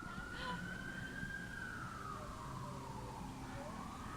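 A siren wails steadily in Honolulu, Hawaii, its pitch sliding slowly up and then down, carried over a busy rumbling background with some faint voices.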